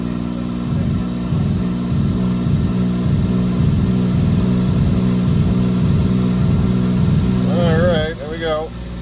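A Smart ForTwo's 0.9-liter engine with a Garrett turbo, running on about 61% ethanol, drones steadily with rhythmic pulsing, then rises in pitch near the end with a whistling, whining turbo spool-up.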